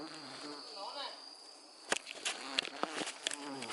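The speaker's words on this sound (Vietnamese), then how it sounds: "Ong nhiều lắm này." A swarm of wild bees buzzing at night under a tree, a close, continuous droning hum with sharp bursts of sound as the insects move about, and faint voices early on.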